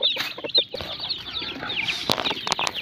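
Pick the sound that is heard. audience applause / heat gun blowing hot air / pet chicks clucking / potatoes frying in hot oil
pet chicks clucking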